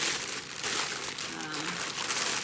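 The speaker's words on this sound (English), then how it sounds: "I am unwrapping the last of our crystals." Crystals being unwrapped from crinkly wrapping, giving a steady rustling, crinkling crackle close by that runs without pause through the whole stretch.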